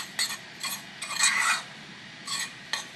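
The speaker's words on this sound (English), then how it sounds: "Make sure you stir it up really well." Homemade ranch powder mixed with buttermilk powder, stirred in a bowl: a few quick, close scraping and rasping strokes in short bursts, with brief pauses between them and no talking.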